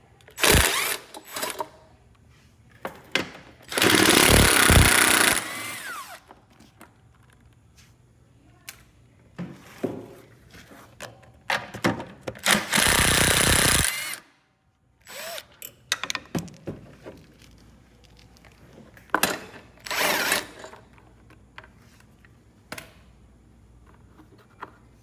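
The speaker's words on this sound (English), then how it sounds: "So I have a drill with the 13mm socket on mine." Cordless drill fitted with a 13mm deep socket backs bolts out of a Gravely zero-turn mower, giving several loud, broadband bursts of whirring separated by quieter handling clicks and ratcheting.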